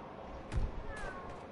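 A cat on a rooftop in a video game gives one short, faint meow, preceded by a soft low thump amid quiet background noise.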